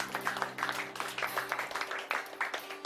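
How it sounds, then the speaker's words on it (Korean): Congregation clapping during a church worship service, a steady patter of hands with distinct louder claps, sustained and moderately distant, with low hum beneath. "우리 주님께 박수로 경배하십시다"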